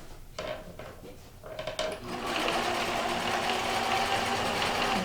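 A sewing machine sewing a quillo, a few short taps and brief starts, then a steady close whirring run of stitching that continues to the end.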